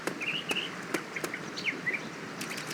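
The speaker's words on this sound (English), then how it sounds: "Can you hear those birds?" Light bird chirps and short tweets in the video game Go Vacation, over a soft background, with a few sharp clicks scattered between the calls.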